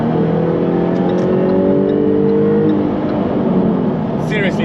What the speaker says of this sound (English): Seriously, that supercharger whine is very addictive.